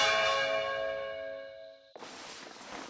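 A large bell rings in the video game Fire Emblem Engage, a loud, sustained metallic tone with long ringing overtones that slowly decays, then gives way abruptly to broadband noise.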